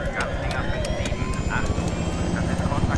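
Helicopter in the video game Battlefield 3, a steady rotor thump and turbine whine running loud throughout, with players talking over it.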